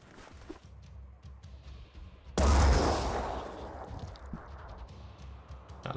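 A grenade goes off in the tactical video game Phoenix Point, one sudden loud burst that fades into a lingering rumble over a few seconds, with faint scattered game sounds before and after.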